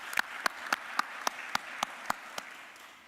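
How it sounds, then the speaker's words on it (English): At a county board of commissioners meeting, a few people clap in an even rhythm, around three or four distinct claps a second, tapering off and growing fainter toward the end. "Give her a round of applause to PR and to Jessica Paulette."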